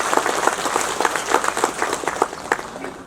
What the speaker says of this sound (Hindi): उनके लिए जोरदार ताली बजा दीजिए